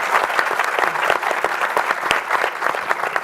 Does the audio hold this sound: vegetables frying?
no